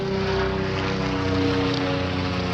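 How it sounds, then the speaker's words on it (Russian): A military helicopter flies overhead near a military base, giving a steady, loud, droning engine and rotor roar that holds evenly throughout with no talk. "Вертолет военный, но я сейчас не спину,"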